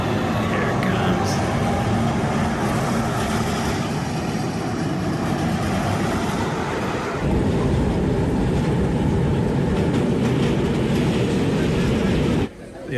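A roller coaster train rolls into the station with a loud, steady rumble that fills the whole stretch, then cuts off sharply near the end.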